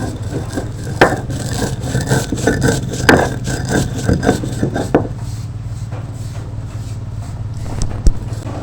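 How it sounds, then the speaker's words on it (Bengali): Roasted cumin seeds are ground into powder, a loud close rough grinding and rubbing with rattling bursts and a few sharp knocks, continuing steadily before easing off near the end. "জিরেটা যে ভেজে রেখেছিলাম সেটাকে গুঁড়ো করে দিচ্ছি।"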